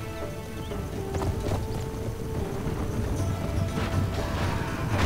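Horses' hooves clip-clop steadily in a Medieval 2 Total War online free-for-all battle, a dense trotting clatter with an occasional whinny over a continuous battlefield din.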